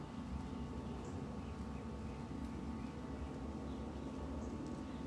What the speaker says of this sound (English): Just letting the plane go by so you can hear me over the noise of the plane.